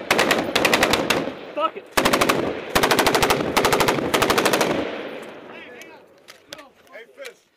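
A soldier's weapon fires rapid automatic bursts during a firefight in Afghanistan, loud and close, several bursts in a row with short gaps, then fading echoes and a man swearing.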